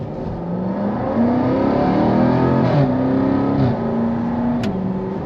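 A Jaguar XE SV Project 8 sedan accelerates hard from inside the cabin, engine note climbing and dropping through quick gear shifts, loud and continuous with no talking.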